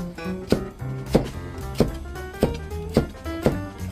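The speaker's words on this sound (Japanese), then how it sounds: "一口サイズにね、トントントンとね、切っていきます" A knife chops Chinese yam (nagaimo), skin on, into bite-size chunks on a cutting board, giving six sharp, evenly spaced knocks close by with a faint hum in between.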